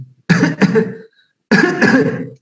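Two short bursts of coughing, one pair of quick coughs then a longer harsh cough, close and loud with silence between.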